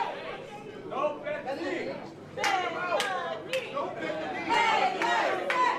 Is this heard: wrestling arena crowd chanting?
yes